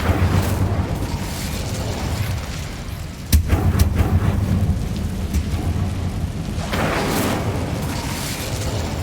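The Incendio fire spell is cast in Hogwarts Legacy: one sharp, loud burst near the middle, followed by a few quicker crackles, over a steady rumbling game ambience.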